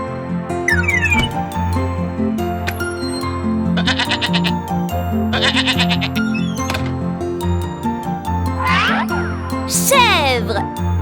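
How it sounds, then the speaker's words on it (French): Goat bleats from a children's cartoon about farm animals, several wavering calls over continuous background music, with a spoken voice present. "Chèvre."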